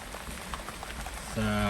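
Steady rain patters on a surface, with faint voices underneath and a sudden tonal hum cutting in near the end.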